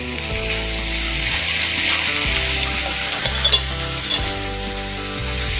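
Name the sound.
chicken sautéing in a hot pan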